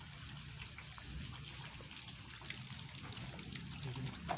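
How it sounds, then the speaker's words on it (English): Faint, steady rainfall with soft patters and drips, a quiet continuous wash of falling water heard from a distance. "As you can see, it is raining."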